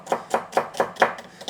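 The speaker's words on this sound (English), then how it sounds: "Just chopping up this celery for my soup." Kitchen knife chopping celery for soup on a cutting board, about seven crisp, evenly spaced chops in a quick steady rhythm, close and alone.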